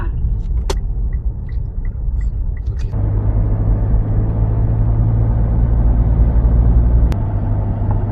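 A car driving along the Khon San–Chulabhorn Dam road in rural Thailand, with a steady low engine and tyre rumble that swells after a few seconds and holds throughout, close and continuous.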